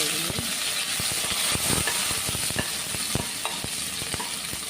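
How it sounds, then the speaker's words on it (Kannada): Ginger, green chilli and curry leaves fry in hot oil, giving a loud, close, continuous sizzle and hiss. Sharp crackles and pops burst through it again and again, with no voices. "ಇವಾಗ ನೋಡಿ, ಶುಂಠಿ, ಹಸಿಮೆಣಸಿನಕಾಯಿ, ಕರಿಬೇವು ಸೊಪ್ಪು ಹಾಕ್ತಾಯಿದ್ದೀನಿ."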